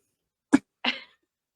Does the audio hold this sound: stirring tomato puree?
no